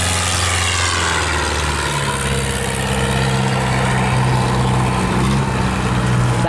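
Large diesel engine of a big Kiên Giang fishing trawler, a steady deep drone with a constant low throb and rumble, loud and close, running unbroken without speech.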